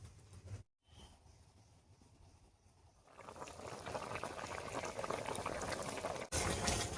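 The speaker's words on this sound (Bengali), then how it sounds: "রান্নায় বেশ কিছুক্ষণ বলক উঠে গেছে।" A pot of koi fish curry with kochur loti (taro stolons) simmering: soft bubbling that grows into a fuller, steady rolling boil with a hissy wash of bursting bubbles, no voices.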